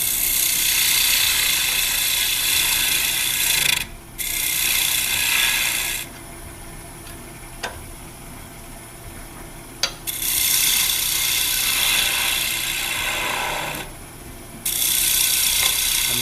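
A carbide Mike Hunter Osprey tool cuts wood on a spinning lathe, a steady hissing scrape in long close passes broken by short pauses where only the lathe's hum and a few ticks remain.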